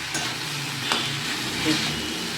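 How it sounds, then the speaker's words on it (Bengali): Spice mixture frying in a pan for homemade dosa filling, a steady close sizzle with scraping stirring strokes, one sharper clatter midway, no voices. "নাড়বে এখন ঘেঁটে দিতে হবে, না তো গোটা গোটা হবে"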